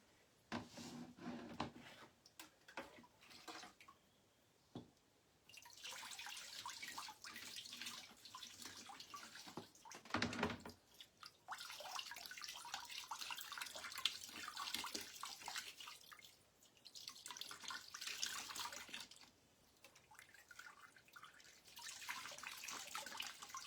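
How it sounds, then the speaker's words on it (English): Marbled paper rinsed under a running tap, the water hissing on and off in several long bursts with brief pauses between, fairly close and steady with no talking. "let me get it rinsed"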